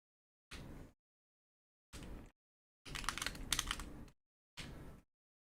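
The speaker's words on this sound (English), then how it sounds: "now my keyboard's so fucking loud" Loud computer keyboard typing, four separate bursts of clattering keystrokes with short silences between, the third burst longest and busiest, close and dry.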